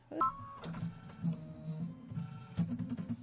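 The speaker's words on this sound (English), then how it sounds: "let's sit back and relax and enjoy this while it stitches out the outline of the house" Embroidery machine stitching out a house outline on a quilt block, a close mechanical whirring hum with rhythmic needle pulses and small clicks, no voices.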